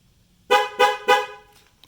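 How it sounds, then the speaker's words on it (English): A Corvette C6 Z06 anti-theft horn beeps three times in quick, even succession, loud and close, then falls silent. "the car beeps 3 times and it says, "Get lost, kid. This car is locked.""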